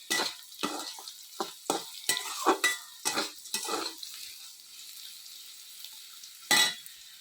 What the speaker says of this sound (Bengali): এই যে কড়াইয়ের মধ্যে আলু ভাজা আর গোটা মরিচ দিয়ে দিয়েছি।